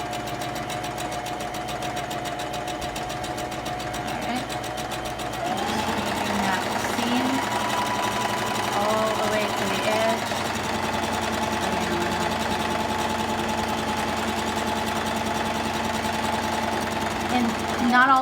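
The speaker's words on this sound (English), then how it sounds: "I'm going to leave about an inch from the side, and I'm going to sew it." A sewing machine stitches a zigzag seam on a fabric scrunchie, its motor whirring and its needle clattering in a steady rapid rhythm. The pace picks up and grows louder partway through, and a person talks over it.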